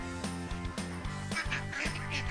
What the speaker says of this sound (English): He uses his ears to hear the ducks go quack, quack.